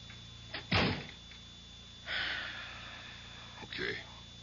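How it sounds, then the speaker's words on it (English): A door is pushed shut with a sharp thump and brief rattle early on, followed by quiet rustling and soft breathy sounds in a calm indoor room. "shut the door."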